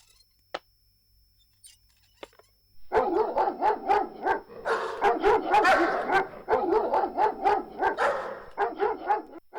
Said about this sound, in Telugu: కుక్కలేంటి అలా మొరుగుతూనే ఉన్నాయి?